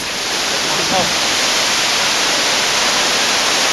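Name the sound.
waterfall in Kanchanaburi, Thailand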